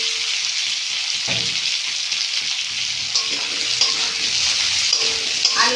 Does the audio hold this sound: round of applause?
no